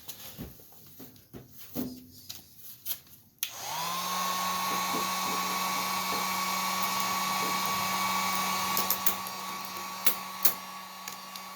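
A heat gun switches on partway through and blows hot air steadily on vinyl car wrap film, a loud continuous whir with a fixed tone, after a few quieter handling sounds at the start.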